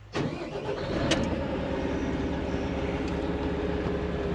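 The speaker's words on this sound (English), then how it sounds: "Let's start up the machine and make sure everything works with no leaks." Volvo 350E excavator's diesel engine cranks and catches with a sudden loud start, then settles into a steady, rumbling idle close by.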